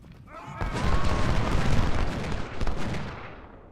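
Cannon fire from a Civil War battle in Ultimate General: Civil War rolls in as a thick barrage of booms and crackling shots, rising after a quiet start and sustaining for several seconds before tapering off.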